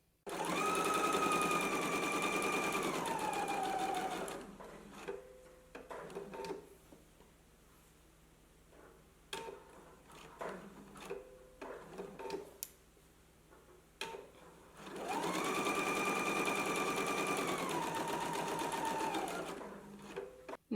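Sewing machine stitching a facing seam down, across the bottom and up the other side on a McCall's M8421 garment, with two sustained close bursts of stitching separated by a quieter stretch of small handling noises.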